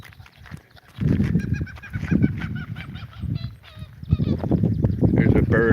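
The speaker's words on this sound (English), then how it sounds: "There's a bird probably near his nest." At a large bird breeding refuge, a bird near its nest lets out loud honking, goose-like calls in a string of close, harsh bursts.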